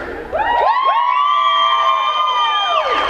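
Crowd at a dance benefit event for the homeless bursts into loud, sustained cheering and whooping with overlapping high voices, swelling quickly and holding for a few seconds before fading.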